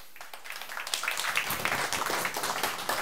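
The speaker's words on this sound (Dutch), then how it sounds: "Groot applaus, dames en heren, voor Reinder Bakker." Quiet applause from a seated audience at a talk welcoming an architect, starting sparse and thickening into steady, distant-sounding clapping.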